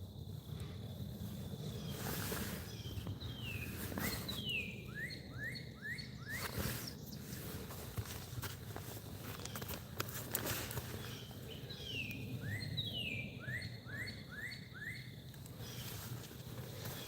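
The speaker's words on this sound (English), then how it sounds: "I love the sounds of the birds." Birds chirp outdoors in two separate bursts of quick, repeated descending chirps over a steady low rumble of ambient noise.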